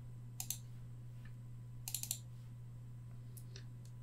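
A few sparse computer keyboard keystrokes come in small clusters of crisp clicks over a steady low electrical hum, fairly faint and with no voices.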